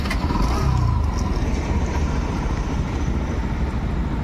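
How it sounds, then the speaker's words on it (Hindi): A Bajaj Pulsar NS125 motorcycle fitted with fog lights and hazard flashers runs close by, a steady low engine rumble holding at even loudness throughout with no talk. "एंड अब मैं बाइक को स्टार्ट करता हूँ।"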